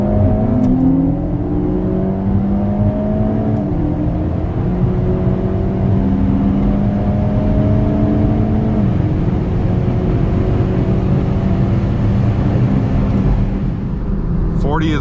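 A loud, sustained engine roar from a tuned Hyundai Elantra N racing a 2022 Toyota Supra 3.0, with rising gear-by-gear pitch sweeps and shift breaks, heard from inside under wind rush with someone speaking over it.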